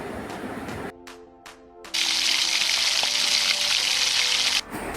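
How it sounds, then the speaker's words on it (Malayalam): Fenugreek seeds hit hot coconut oil in a pan, bursting into a loud, steady broadband sizzle after a brief quieter moment, holding strongly for a few seconds before easing off. "ഒന്ന് വെളിച്ചെണ്ണ ഒന്ന് ചൂടായി വരുമ്പോൾ നമുക്ക് ഉലുവ ഇട്ട് കൊടുക്കാം"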